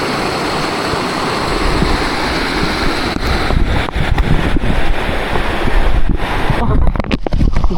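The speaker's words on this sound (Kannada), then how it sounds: "ಗಾಳಿ ಹೆಂಗೆ ಬರ್ತಿದೆ ಇಲ್ಲಿ" Strong wind on the Kumara Parvata mountain trek, loud continuous gusts roaring and buffeting the microphone, easing slightly toward the end.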